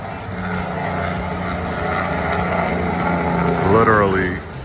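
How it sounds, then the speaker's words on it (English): Continuous highway traffic roaring past a campground, a steady broad wash of engine and tire noise close by, with a louder vehicle swelling near the end and a voice talking over it. "All the noise you hear is the highway here"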